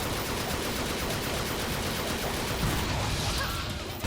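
A rapid, unbroken handgun barrage from the Trigger Happy attack in Devil May Cry, loud and steady rattling shots from start to end with no talk over it.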